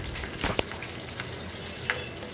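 Curry leaves crackle in hot oil with mustard seeds and asafoetida in a tempering for traditional masala rice, a steady close sizzle broken by a few sharp pops, with no talk.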